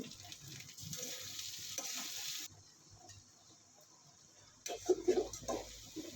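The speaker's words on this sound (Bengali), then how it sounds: "জিরের গুলো এখন একটু মশলাগুলো কষানো হচ্ছে" Spices sauté in a hot pan, giving a bright hissing sizzle that suddenly drops away, then returns with stirring scrapes, while a voice talks over parts of it.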